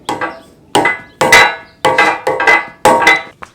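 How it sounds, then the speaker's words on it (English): A mallet hammers a sleeve into an aluminum tire carrier on a Jeep JL, giving six sharp, close knocks in an uneven rhythm with no talking. "All I had to use was a mallet here to hammer it in."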